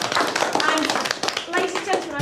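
Applause from a classroom group of students, a dense patter of clapping hands held steady and fairly close for about two seconds, with a few voices mixed in.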